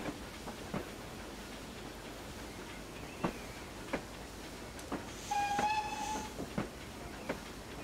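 A 2F dock tank locomotive trundles along the Falmouth branch line in a train simulator game, with quiet, regular clicks of wheels over rail joints and a short whistle-like tone near the end. No one speaks.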